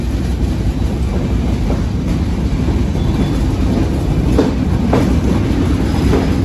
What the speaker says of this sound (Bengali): বেনাপোল থেকে ছেড়ে আসা ঢাকাগামী বেনাপোল এক্সপ্রেস যশোর জংশন ছেড়ে যাচ্ছে ঢাকার উদ্দেশ্যে